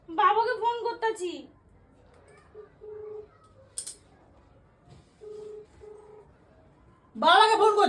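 A phone dials a call to a father, a series of short, evenly spaced beeps sitting quietly between stretches of speaking at the start and end.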